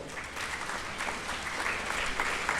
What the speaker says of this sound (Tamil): அனைவரையும் நாம் கைத்தட்டி அன்போடு வரவேற்போம்